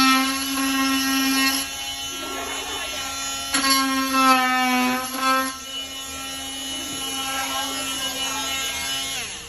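Oscillating multi-tool trimming wood in a door hinge mortise, a high buzzing whine that starts, stops and restarts in bursts and changes pitch as it bites into the wood, close and loud.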